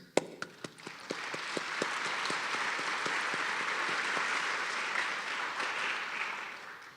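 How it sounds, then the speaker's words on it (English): Audience applause at a theater performance, starting with a few separate claps that quickly swell into steady, even clapping from a seated crowd and holding at a moderate, slightly distant level. "I extend to them my own personal round of applause"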